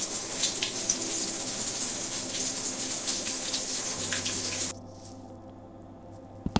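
Steady broadband rush of shower water running inside a Kazakh horror video game, loud and continuous before cutting off abruptly near the end, leaving a quiet low hum.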